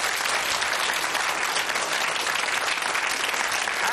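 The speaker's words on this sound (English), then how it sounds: "Give them a round of applause." Steady, full applause from a television game show studio audience, dense clapping that holds at an even level throughout with no voices over it.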